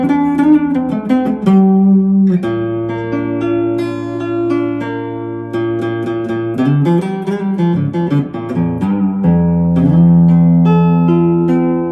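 Telecaster electric guitar played through its neck pickup, a steady stream of sustained notes and chords with a warm, continuous tone, loud and close with no talking.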